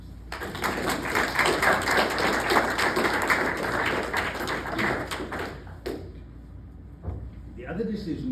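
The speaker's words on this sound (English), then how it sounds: "I think we should give Anne a round of applause" A memorial gathering's audience breaks into sustained, dense applause for about six seconds at a steady level, then it tapers off and a voice resumes speaking.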